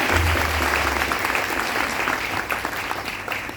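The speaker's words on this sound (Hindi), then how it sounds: "एक बार जोरदार तालियां मैं आप सबके लिए देता हूं" Applause from an audience at a Modicare business plan seminar in Ahmedabad, a steady broad wash of clapping that holds for several seconds with a low hum beneath, gradually thinning toward the end.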